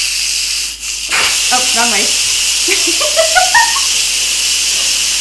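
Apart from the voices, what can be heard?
Instant Pot quick release venting steam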